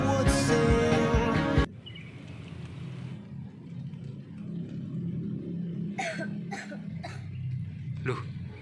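Music stops abruptly, then after a quiet stretch come four short, sharp coughs in quick succession, fairly close.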